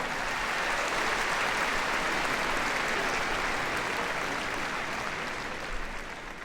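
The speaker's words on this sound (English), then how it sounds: "give a round of applause. Karen and Vienna." Audience applause for a heelwork-to-music freestyle routine by a handler and her dog at Crufts, a dense, steady clapping from a large indoor crowd that holds loud throughout and eases slightly at the end.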